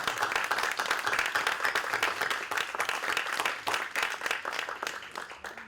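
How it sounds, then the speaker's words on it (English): Steady applause from an audience at the close of a fellowship report event on drug policy in the Netherlands, a dense continuous patter of clapping that holds for several seconds and eases slightly near the end. "I just want to give you a big round of applause."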